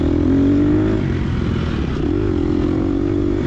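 A race car engine in the TORCS racing game revs loud and continuously, a steady droning whine with slight rises and falls in pitch, and no talk over it.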